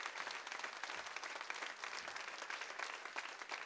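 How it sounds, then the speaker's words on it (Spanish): Church audience applauding steadily, a dense wash of many hands clapping at even loudness throughout, fairly distant and without talk. "Ahí va un aplauso en esta hora."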